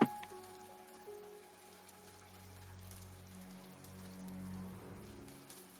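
Rain falls steadily on a surface as quiet ambient backdrop during a fantasy tabletop game session, a soft continuous patter with scattered drops and no voices over it.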